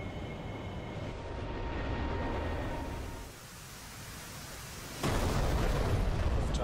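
Missile launch and impact in the DCS AV-8B Harrier flight simulator: a steady jet roar swells, dips, then a sudden loud blast erupts and rumbles on to the end, no voices.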